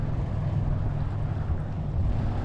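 Strong wind buffets the microphone at a boat ramp, a dense, continuous low rumble with no break across the short stretch.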